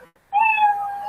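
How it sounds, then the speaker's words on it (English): A single cat meow sound effect, used as a time-up signal on a comedy livestream, rings out loud and clear for under a second on its own. "you know your 60 seconds is up when you hear the sound of a kitty."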